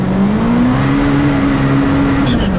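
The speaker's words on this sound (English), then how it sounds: "Now this machine accelerates like a bat out of hell," Kawasaki KRX side-by-side accelerating, loud and close, with a steady engine drone that rises slightly in pitch and holds, then eases near the end; no talking.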